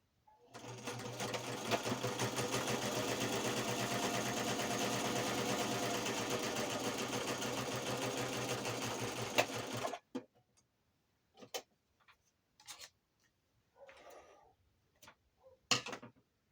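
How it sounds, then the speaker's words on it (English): A sewing machine stitches a cover made from fabric scraps. A close, even mechanical whir runs for about ten seconds, then stops, and a few scattered clicks and handling sounds follow. "I'm going to take it again to the sewing machine"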